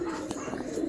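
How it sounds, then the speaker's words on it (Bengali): Pigeons coo in a small pigeon farm of local and foreign breeds, a steady low cooing that runs close and continuous through the short moment. "আপনারা এখন আবু বকর সিদ্দিকের সেই কবুতরের খামারে চলে এসেছেন"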